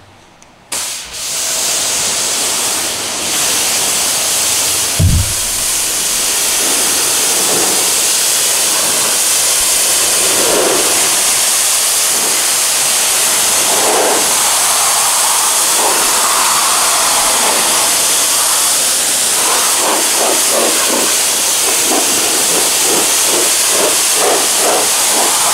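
Water spray rinses a BMW i4 M50: a loud, continuous, close hiss of pressurized spray runs throughout, with faint fluctuating splashes as the stream moves across the car's surface.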